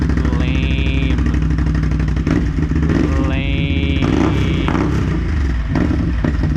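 A Can-Am Outlander 650 XMR fitted with an SLG exhaust idles loudly at close range and is blipped twice, each rev climbing into a throaty, raspy roar before dropping back to a rumbling idle.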